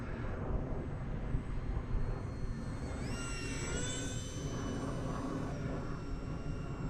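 Micro electric ducted-fan model jet flying at reduced quarter-to-half throttle, a steady broadband rushing whine with a thin high tone that rises and shifts partway through, continuous and moderately distant, with no talk.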